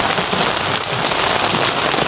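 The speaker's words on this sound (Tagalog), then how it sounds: "kasi nga sobrang lakas ng ulan." Heavy rain pours down at White Beach in Boracay, a loud, dense, unbroken hiss of drops hitting surfaces nearby, with no voices.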